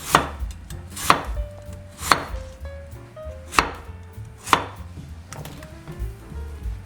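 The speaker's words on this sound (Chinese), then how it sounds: "現在要繼續切了，切片，切片" A knife chops through kohlrabi on a cutting board, sharp evenly spaced thuds about once a second, close up with faint background murmur.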